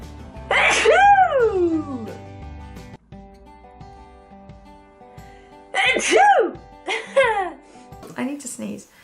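A woman's sneezes: one drawn-out, loud sneeze early on, then after a quiet stretch a closer cluster of two or three sharp sneezes in quick succession, with faint background hum between.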